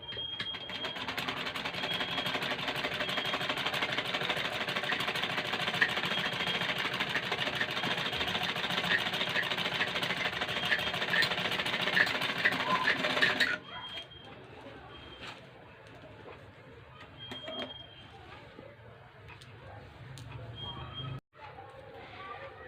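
A sewing machine stitches a garment neckline with a steady, rapid mechanical whir for about thirteen seconds, then stops, leaving quieter handling sounds while someone talks.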